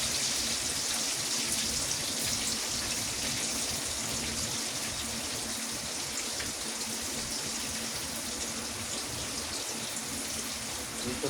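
Heavy rain pours in a steady, even hiss that stays fairly faint and continues without a break.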